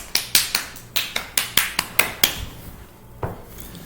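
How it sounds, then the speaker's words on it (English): Applause for flag bearers at a school morning assembly, a dozen sparse, sharp claps in an uneven rhythm, fairly close, thinning out toward the end. "Give all of our flag bearers a round of applause."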